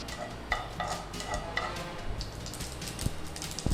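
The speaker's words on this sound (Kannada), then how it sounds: "ಸಾಸಿವೆ ಸಿಡಿತಾ ಇದೆ, ಜೀರಿಗೆ ಹಾಕೋದು." Mustard seeds splutter and pop in hot oil for tempering, a quick irregular crackle close by with a few sharper clicks of a utensil against the pan.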